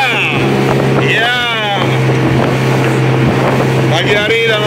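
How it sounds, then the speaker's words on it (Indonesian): Speedboat motor cruising on Lake Toba on a windy morning: a loud, steady engine drone with wind buffeting the microphone, while voices talk over it. "kita naik speedboat mau mengelilingi Danau Toba."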